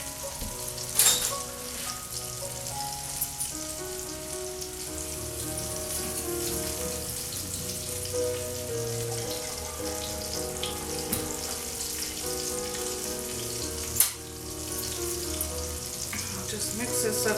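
Pork chops frying in oil with fresh garlic in a pan, a steady close sizzle throughout with a louder crackling flare near the start and a sharp clink of utensil partway through.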